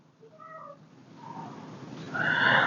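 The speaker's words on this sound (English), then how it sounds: "She's like, meow." Domestic cat meowing: a soft short meow followed by a louder, drawn-out, rising meow, close by with no talking.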